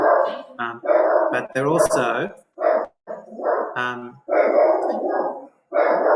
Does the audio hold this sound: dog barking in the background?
yes